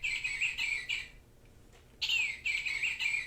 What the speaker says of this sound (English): I love hearing this sound right now. This guy, of course, is a bluebird.